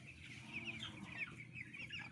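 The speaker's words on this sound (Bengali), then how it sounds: "আমার মুরগি আছে এখন হলো 2330টা।" About two thousand 16-day-old chickens on a poultry farm make faint, continuous clucking and chirping, a soft overlapping chatter heard from a distance with no voices over it.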